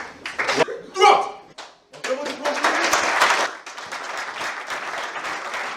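Audience applause at a chaplains' graduation ceremony in Niger, a burst of clapping that swells and then settles into steady, sustained applause from a crowd, with some voices mixed in.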